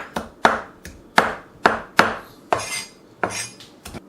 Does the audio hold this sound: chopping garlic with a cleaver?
yes